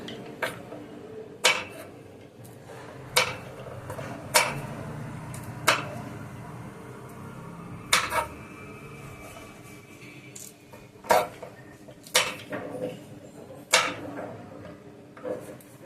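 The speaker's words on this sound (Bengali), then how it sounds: "এইভাবে গাজরগুলো পুরো গোটা গোটা কেটে নেব বিনসগুলোও কেটে নিই" A knife chops carrots and beans on a board for a home chicken stew, with about a dozen sharp, separate cuts at a slow, uneven pace and quiet kitchen background between them.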